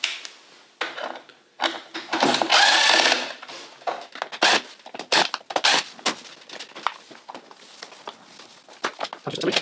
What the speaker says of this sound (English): Now I'm going to remove the mowing motor from the Husqvarna.